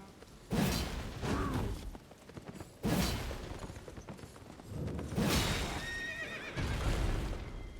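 Several loud horse whinnies and neighs from the Elden Ring video game, in repeated bursts with mechanical clatter and hoof-like clops between them, no talk.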